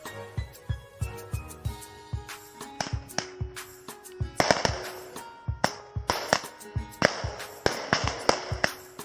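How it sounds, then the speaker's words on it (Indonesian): Traditional Indonesian firecrackers (petasan) going off in a rapid irregular string of sharp, loud cracks and pops, some overlapping, with brief gaps and no voices. "Petasan."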